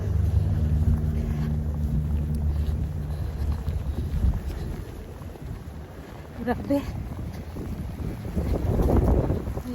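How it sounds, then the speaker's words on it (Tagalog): Strong wind in a winter snowstorm in Edmonton buffets the microphone in a steady low roar that rises again near the end, with a brief spoken exclamation. "Lakas ng hangin."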